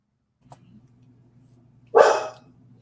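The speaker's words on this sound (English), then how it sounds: "I don't mind the barking like that, or like strangers or whatever." A single sharp dog bark, close and loud, rises suddenly after a faint brief yip and quickly decays over a low background hum.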